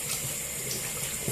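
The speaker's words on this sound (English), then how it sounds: "we're going to put our palm halfway under the water to scrub and rinse it out" Tap water runs steadily into a sink while a makeup brush is scrubbed and rinsed under the stream against a palm, a close, continuous splashing hiss with no voices.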